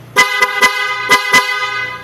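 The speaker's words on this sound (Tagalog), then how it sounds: "Matong Pia Auto Style horn o" A Pia Auto Style car horn gives five quick, loud toots at close range in an uneven rhythm. No one speaks.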